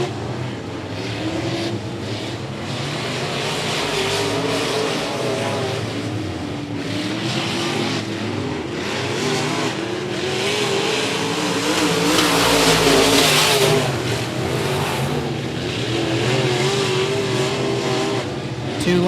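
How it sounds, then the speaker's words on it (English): IMCA modified race cars lap a dirt speedway during a heat race, engines roaring loudly and continuously with rising and falling revs as the pack passes, with faint talk underneath. "we are back underway in our second IMCA modified heat race"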